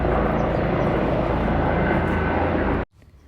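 A loud, continuous roar of an airplane and helicopter passing overhead fills the air without pause, then cuts off abruptly near the end, leaving faint background noise.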